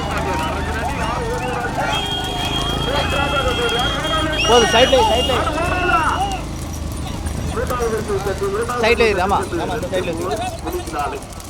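Bulls pulling carts in a bullock cart race near Thoothukudi thunder past with rhythmic hoofbeats and rattling, while a loud announcer talks over the sound throughout.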